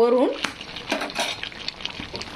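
Cooked rice spooned over layered Hyderabadi biryani in a pot, with scraping and clinking of a utensil against metal in short irregular strokes, close and fairly loud, a brief voice at the start.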